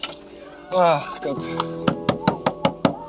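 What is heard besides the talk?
door being closed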